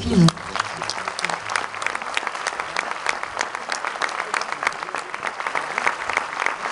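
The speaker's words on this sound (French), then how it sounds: "on peut applaudir Cédric" An audience at a cinema premiere screening bursts into sustained applause, a dense crowd of clapping hands filling the room steadily throughout, with a brief voice at the very start.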